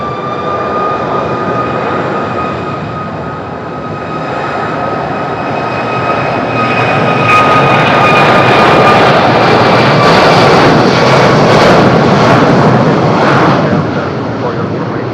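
A Ryanair airliner takes off from the runway at Madeira airport on a windy day, its loud engine roar building steadily into a close, powerful rumble that swells over fifteen seconds.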